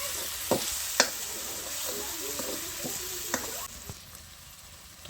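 Masala gravy with coriander-cumin powder, salt, sugar and red chili fries in a pan for a green corn dish, giving a steady close sizzle broken by a few sharp spoon clinks and scrapes as it is stirred, with no talking.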